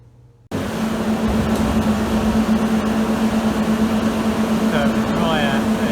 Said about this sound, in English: the dryer has now started, so the dust shutters have opened on the fan.